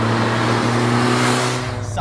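A forged SR20 engine in a Nissan Silvia S15 pulling hard under acceleration, a steady close-up engine drone with a strong low hum, fading slightly toward the end.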